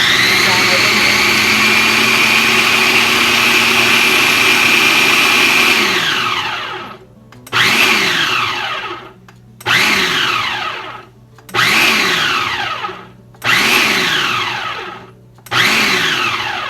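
A food processor mixes keto bread dough, first running in one long steady whirring stretch, then switching to five or six short pulsed bursts with quiet gaps, close and loud.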